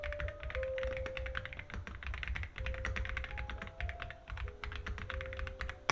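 Steady keyboard typing, a dense run of crisp mechanical key clicks with varying force, close up and continuous, with a faint tonal hum underneath.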